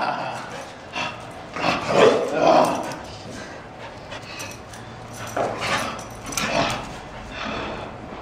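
A dog lets out rough growls and short yips and barks in a few separate bursts, fairly close, with voices talking around it.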